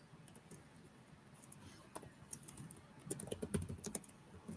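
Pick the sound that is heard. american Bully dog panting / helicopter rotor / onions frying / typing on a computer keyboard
typing on a computer keyboard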